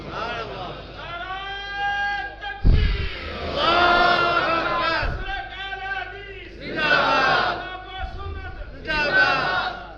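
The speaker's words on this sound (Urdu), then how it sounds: "ادھر سے نعرہ رسالت لگ رہا تھا" A large crowd at a religious gathering chants a slogan in repeated loud call-and-response bursts, with a leader's voice and pauses between each roar.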